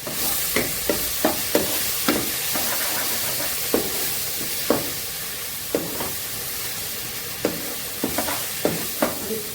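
Bottle gourd and vegetables for Bengali lau shukto fry in a pan with a steady, close sizzle, broken by a dozen sharp spatula scrapes and knocks in an uneven rhythm.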